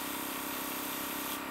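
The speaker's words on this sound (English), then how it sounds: "I'm not mixing it, so I'm just going to spray until I see something." An airbrush hisses steadily and close while spraying makeup, a continuous airy spray running without pause for the whole moment.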